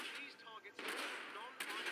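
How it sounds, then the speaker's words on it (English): Gunfire in the video game Titanfall 2, a burst of broadband shots with a second blast near the end, mixed under game voices and a player talking. "Ah, stop shooting at me."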